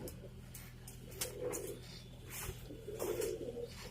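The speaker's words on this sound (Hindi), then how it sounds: "फ्रेंड्स, ये वो कबूतर है जिसको खांसी हुई है।" A pigeon with a cough makes soft, faint coos and short raspy breathy noises in a few irregular bursts over low background hum.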